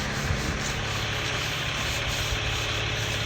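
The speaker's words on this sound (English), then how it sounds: "So they're sanding the spots." Steady, continuous sanding scrapes and rubs against a boat hull, sanding paint spots, with a low engine-like hum underneath throughout.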